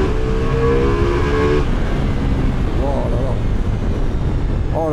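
A Ducati Multistrada V2S 2025 motorcycle engine pulls hard under acceleration, a loud rising drone with shifting pitch that dips and climbs again near the end.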